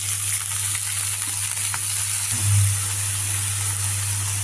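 Cowpea pod pieces and curry leaves being stirred in a sizzling pan for a Telugu-style curry, a steady hiss of frying with a faint scrape of the spoon partway through.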